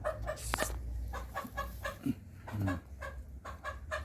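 A small, tame American Silkie bantam hen clucking close by in soft repeated clucks and short calls, with faint farmyard background noise.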